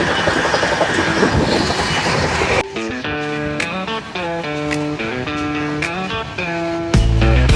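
A moving train clatters loudly on the tracks for a few seconds before melodic music takes over and continues to the end.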